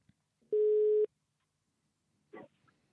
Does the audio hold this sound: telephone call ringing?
yes